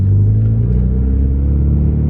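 Loud, steady low engine drone and rumble of a car fitted with a racing exhaust, heard from inside the cabin, holding a constant idle-like tone throughout with no talking.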